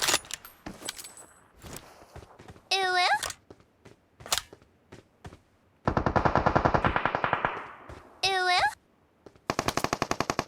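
Automatic gunfire in the mobile game PUBG Mobile comes as several loud, rapid bursts of sharp shots, separated by short pauses and single cracks, with brief chirping in-game effects between them.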